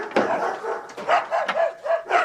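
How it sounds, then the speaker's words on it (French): Two dogs bark over and over, close and loud, with sharp overlapping barks and yips in a rapid uneven rhythm that never lets up. "2 chiens qui jappent tout le temps"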